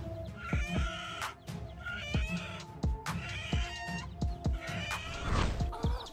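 A hen fighting off a hawk that is after her chicks, giving repeated loud squawks and harsh clucks in an irregular rhythm, close and agitated, with no talk.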